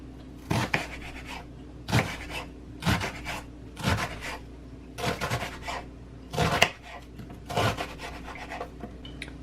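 Knife chopping onions on a cutting board for Japanese curry, a series of short rasping strokes with brief pauses between, close and fairly quiet.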